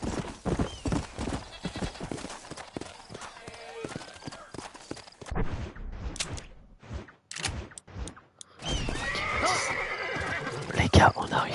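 Horses galloping in Red Dead Redemption, hooves pounding in quick clip-clop rhythm with a whinny or neigh breaking through, moderately loud and shifting as riders pass, with someone talking over parts of it.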